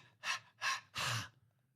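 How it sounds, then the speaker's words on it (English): Three heavy, breathy exhalations in a steady rhythm, close and fairly loud, like panting, with a low background hum. "Are you panting like a dog?"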